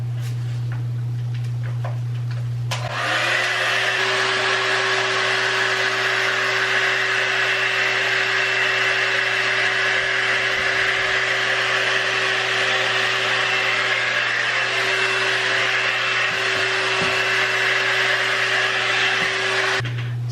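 A hair styling tool blows hot air to dry hair after heat protectant, a steady broadband whoosh with a constant motor hum that switches on early and runs loud and unbroken to the end.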